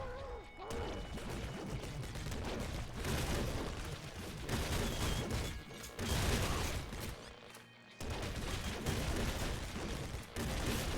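Dense, loud weapon fire from a bouncer plasma cannon in Nuclear Throne Ultra Mod, with repeated booming energy blasts and mechanical clanks, continuous over a heavy action soundtrack with no talking.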